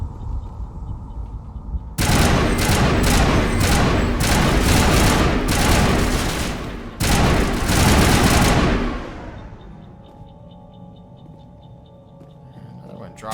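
Rifle fire in the Mass Effect video game erupts into a loud, rapid barrage of shots lasting several seconds, pauses briefly, resumes, then fades into a low hum.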